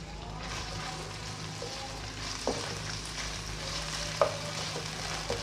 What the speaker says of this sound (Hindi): चिकन को इसके साथ ही हल्का सा हम फ्राई करेंगे।